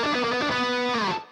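Distorted electric guitar rips through a short, fast shred pattern in B harmonic minor, quick picked notes ending on a sustained note that fades out.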